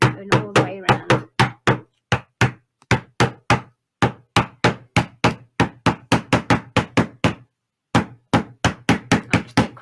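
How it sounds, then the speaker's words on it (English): Hammer driving staples into a wooden frame: dozens of sharp, close knocks in quick bursts of several strikes each, with brief pauses between runs. "just need to hammer each one in to make sure it's nice and firm"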